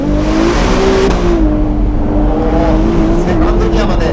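A Ferrari 296 GTS engine accelerates hard from inside the cabin, with a loud, steady, rising drone throughout and someone talking over it.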